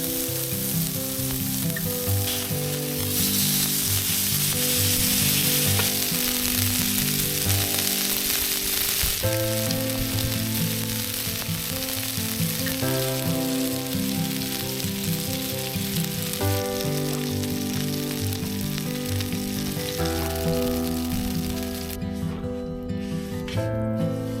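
Burgers and beans sizzling and frying on a camp stove at a campsite, with loud, continuous close crackle and hiss, some scraping and stirring, and shifting steady tones under the frying.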